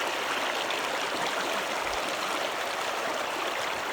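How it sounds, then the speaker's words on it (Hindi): The Hansari river flows steadily past a bamboo fishing barrier, a continuous broadband rush of water like a stream that stays even and fairly close throughout, with no voices. "ये देखो इतना बड़ा है ये नदी, ये हंसरी नदी है।"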